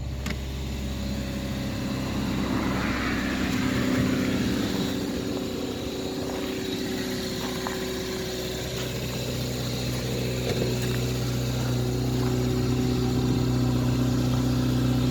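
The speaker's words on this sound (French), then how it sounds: "J'ai un bon petit trou à l'échappement, d'où le bruit." 1989 Renault Super 5 GTR running on 100% ethanol idles after a cold start at minus five degrees, its holed exhaust giving a steady low rumbling drone that holds throughout, close and without talk.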